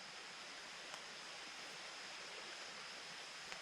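A creek by a Virginia backpacking campsite just after rain, a steady broadband rush of flowing water, quiet and even throughout with no voices.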